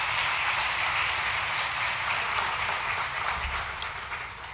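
Sustained audience applause at a State of the Schools address, dense clapping that holds steady and tapers slightly at the end, with no voices.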